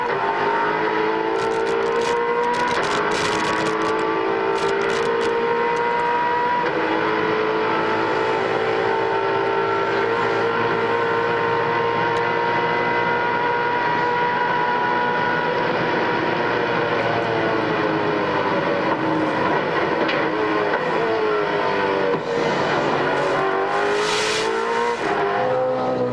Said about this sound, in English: Shots there from aboard the Castrol Commodore, carrying a great amount of speed.